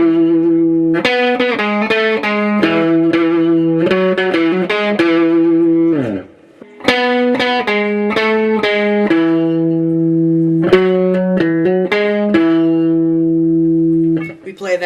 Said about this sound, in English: where we have some harmonized guitar action going on